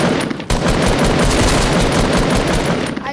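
Rapid automatic gunfire from a shooter video game, a loud, dense burst of shots that runs almost without a break, with one short gap near the start.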